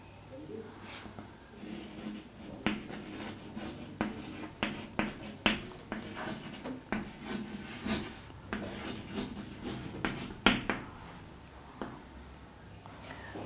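Chalk or marker strokes scratch and tap across a classroom board during a biology lecture on Paramecium conjugation, a steady run of short rasping rubs and sharp clicks close by, with no talk over them.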